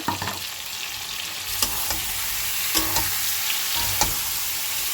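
A wet paste of tomato, green chili, ginger, garlic and onion fries with papaya and potato in a pan, giving a steady close sizzling hiss broken by a few light utensil taps.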